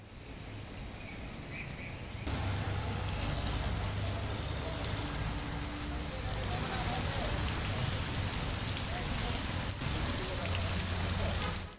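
Steady rain pours down over open fields in Bangladesh, a dense continuous hiss that starts softer and swells to full strength after a couple of seconds, then holds at a loud, even level with no talk.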